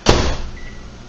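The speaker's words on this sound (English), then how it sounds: "I'm just going to put this in the microwave for about 4 minutes" A sharp clunk like a microwave door shutting, followed by a steady low hum of the microwave oven running, heating low-carb nachos, with a faint tone partway through.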